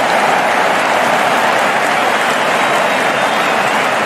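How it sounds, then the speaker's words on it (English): A cricket crowd at a New Zealand versus West Indies match cheers and applauds steadily after a boundary four, a dense, loud and continuous wash of clapping and roaring with no clear break. "The crowd are loving this."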